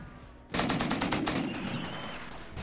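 Rapid machine-gun bursts in the video game Rimworld begin suddenly and keep going as a dense, loud string of shots that slowly fades to a steady rattle.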